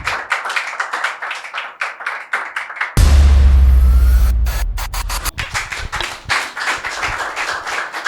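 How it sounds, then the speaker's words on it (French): Audience at a special urban-game session claps loudly and close by, fast and rhythmic. Partway through, a heavy low thump and rumble interrupts before the clapping carries on. "Pour l'instant, on va dire les applaudissements."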